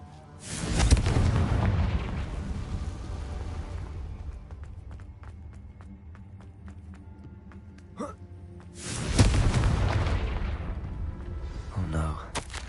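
Two loud booming blasts from the Confringo spell in a Harry Potter video game, one near the start and another about eight seconds later. Rumbling tails and quieter game sounds fill the gap between them.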